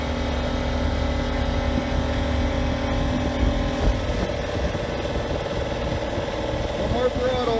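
Steady idling drone from the engine of a 1978 Vanguard boat running on the water, a constant low hum throughout with voices speaking over it.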